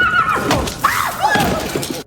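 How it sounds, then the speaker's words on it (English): A frightened black horse on a film set whinnies loudly and shrilly in a short, close burst, with rough breathy snorting around it before the sound cuts off abruptly. "On that day, the staff frightened the black horse."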